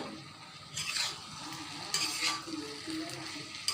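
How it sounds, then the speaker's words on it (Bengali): Sweet pumpkin pieces sizzling in a pan for a fried bhaji, heard as a soft steady frying hiss with a few close scraping stirs of a spatula and no talking. "একটু নেড়ে ছেড়ে দেব।"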